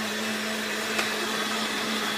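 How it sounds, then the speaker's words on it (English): A blender runs steadily in the background while mixing a mixed berry chocolate Shakeology shake, a continuous whirring motor drone with a constant hum and no voices. "You hear the blender in the background. I'm making a wonderful shake."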